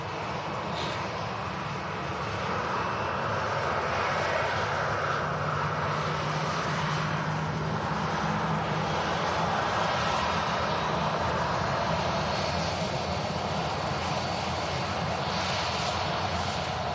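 A Ryanair UK aircraft at Manchester Airport, its engines giving a steady, loud broadband roar that holds evenly throughout with no voices.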